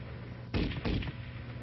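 An M73 machine gun fires two short bursts of broadband blasts, loud and close, over a steady low hum, then falls back to the hum.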